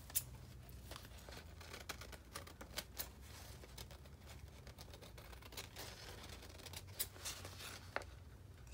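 Quick, soft snips of small scissors cutting paper, irregular clicks repeating close by at low volume, with faint paper rustling.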